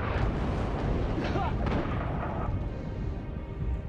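Big artillery shells pound the ground in the WWII shooter Red Orchestra 2, a dense rumbling barrage of overlapping blasts that stays loud and continuous the whole time.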